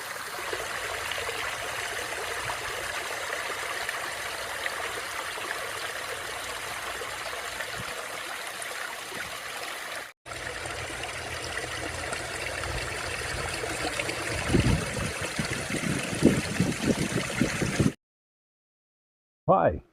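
Steady rush of running water from a waterfall spilling into a koi garden pond, continuous and close, with splashier bursts toward the end before it cuts off.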